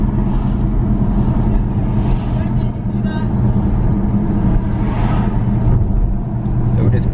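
A 2019 Dodge Charger R/T Daytona cruises along a street, its engine a steady low drone heard from inside the car beneath ongoing conversation.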